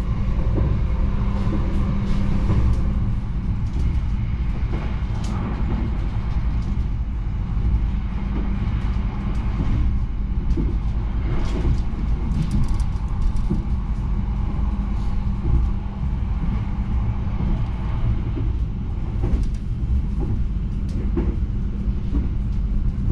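Steady low rumble and rattling hum inside a premium stainless-steel Ambarawa Express passenger carriage rolling along the track, continuous and fairly loud, with faint clicks of the wheels and no talking.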